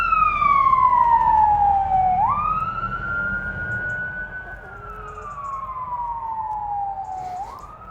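An emergency vehicle siren wails outdoors as it passes, a loud rising and falling electronic tone that sweeps down and up in long cycles over faint traffic rumble, fading slightly toward the end.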